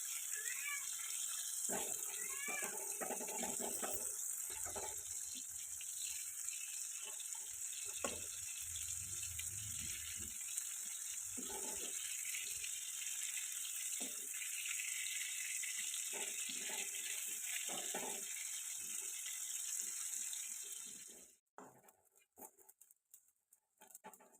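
Dried fish (shutki) fries in oil in an Assam village kitchen, giving a steady, close hiss with scattered crackles that runs for most of the clip before cutting off abruptly near the end.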